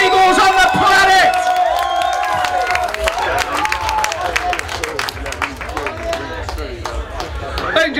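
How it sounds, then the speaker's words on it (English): A concert crowd applauds and cheers in a field, dense clapping and shouts rising up close while a voice speaks over the top early on, and the noise stays busy throughout. "give yourself a massive round of applause for being the best seagulls on the planet!"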